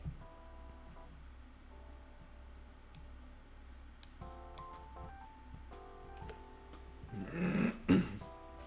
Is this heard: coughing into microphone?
yes